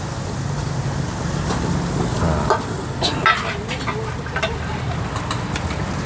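Oyster omelette being stir-fried on a night market stall, with a steady, continuous sizzle and scraping of the spatula in the pan, a couple of louder clanks partway through, and market background behind.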